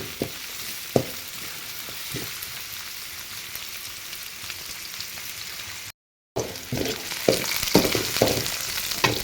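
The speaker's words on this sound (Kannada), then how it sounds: "ಸ್ವಲ್ಪ ಆಯಿಲಲ್ಲೇ ಫ್ರೈ ಮಾಡ್ಕೊಳ್ಳಿ." Ivy gourd frying in a little oil in a pan: a steady, close sizzle with sharp clicks and scrapes from stirring, a brief cut to silence, then louder sizzling and stirring.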